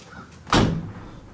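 The door of a Nissan 350Z, rebuilt after flood damage, shuts once with a solid, close thud, then a short fading resonance.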